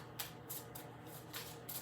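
A tarot card deck being shuffled gives soft, quiet riffling bursts at a loose, regular rhythm, close by, with faint room tone between them.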